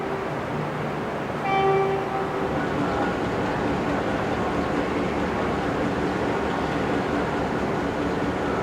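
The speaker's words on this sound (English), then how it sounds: "the train passes through the North Melbourne flyover" The Spirit of Progress passenger train, hauled by Victorian Railways locomotives including a streamlined diesel, rumbles steadily and loudly through the North Melbourne flyover, and a brief horn toot sounds early on over the continuous rolling roar.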